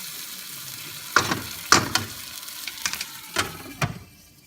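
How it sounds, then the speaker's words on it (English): Pancit Palabok ingredients sauteing in a covered pan, giving a soft steady sizzle broken by several sharp clinks and knocks, probably the lid or a utensil, with no talking. "we'll cover this and let it saute for"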